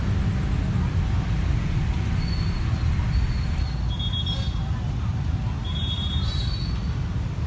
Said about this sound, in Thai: ตอนนี้ขบวนรถที่ 262 กำลังถอยหลัง เข้าทางที่ 2 นะครับ